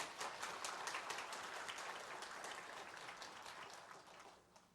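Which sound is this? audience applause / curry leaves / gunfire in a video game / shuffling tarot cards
audience applause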